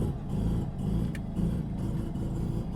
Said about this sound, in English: It's always fun in a loud car.